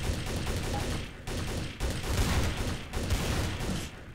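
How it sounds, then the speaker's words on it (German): Rapid gunfire from a player shooting in the game Trouble in Terrorist Town, loud and close, dense overlapping bursts running almost without pause, with a couple of brief dips between volleys. "Donaldi schießt!"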